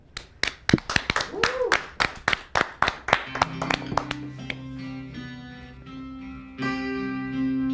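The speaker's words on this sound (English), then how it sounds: "let's give a big applause and welcome to Kay and Kael." A burst of loud, sharp clapping from a crowd, fading after a few seconds into sustained musical tones.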